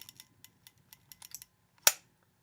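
A Zeiss Ikon Contaflex Super BC single-lens reflex camera gives a series of small, crisp mechanical clicks as it is cocked, then one sharp, loud snap as the shutter fires, close up with no voices.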